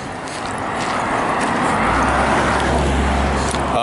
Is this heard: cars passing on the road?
yes